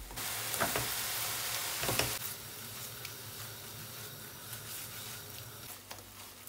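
Mushrooms and spices frying in a pan, with a dense close sizzle and a couple of stirring scrapes early on, then the sizzle softens to a steady quieter hiss.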